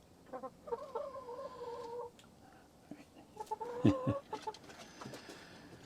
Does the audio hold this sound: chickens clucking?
yes